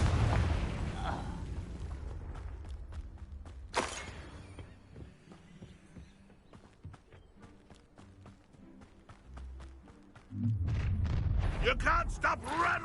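Confringo blasting curse from Hogwarts Legacy: a sharp explosive burst cutting through busy game combat noise, followed by scattered impacts and rumbling action sounds.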